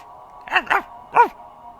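A cartoon dog in the game Shadows Over Loathing lets out three quick, close yappy barks, two in fast succession and one after a short pause, over a faint steady background hum.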